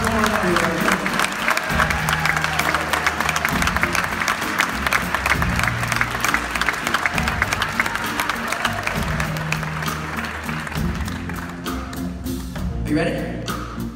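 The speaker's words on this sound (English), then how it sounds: "show him a big round of applause and give him all the love you can" Sustained audience applause fills a performing arts theater, loud and dense throughout, with scattered voices and cheers mixed in before it thins toward the end.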